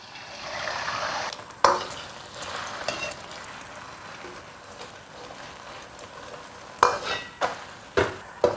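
Eggs frying in a wok greased with rapeseed oil, a steady hiss of sizzling with several sharp scraping knocks from stirring near the end, close and moderate in level, with no talk.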